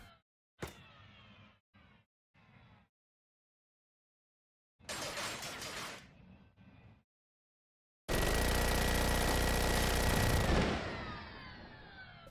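Machine gun turret fire in Crackdown 2 on Xbox 360 comes in loud rattling bursts: a few short volleys, a longer stream, then a sustained roaring hose of fire that tails off, with silent gaps between.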